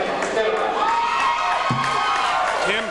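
Crowd noise at a high school boys' basketball game on parent night against Lakewood, a dense steady murmur of spectators with scattered shouts and whoops throughout, near and continuous, with a sharp slam partway through.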